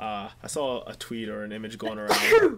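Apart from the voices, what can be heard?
sneeze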